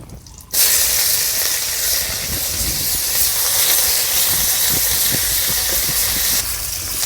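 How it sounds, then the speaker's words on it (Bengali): Chopped onion frying in hot oil with cumin and halved bay leaves, a loud, steady hiss and sizzle that starts abruptly after a brief quiet moment and holds evenly to the end with no talking. "এদিকে আমার পেঁয়াজ ভাজা হয়েছে কত সুন্দরভাবে"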